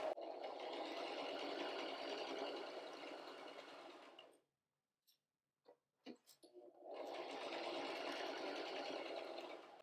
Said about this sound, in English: So when I see I'm getting close to the pin, I pull the pin out and sew.